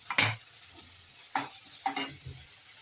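Tomatoes, turmeric and curry leaves sauté with fried onion in a pan, giving a soft sizzle broken by a few louder stirring scrapes and clinks, close by with no talking.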